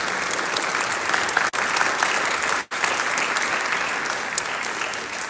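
Steady applause from an audience at a live school band event honouring the athletic director, continuous dense clapping with two brief dips, no talk.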